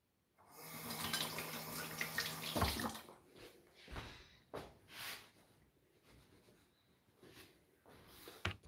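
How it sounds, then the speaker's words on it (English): Tap water runs into a sink during hand washing, a steady splashing stream for a few seconds that then breaks into scattered, faint splashes and drips, fairly quiet and close. "I'm gonna wash my hands."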